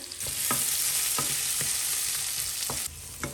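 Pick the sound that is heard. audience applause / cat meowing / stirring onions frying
stirring onions frying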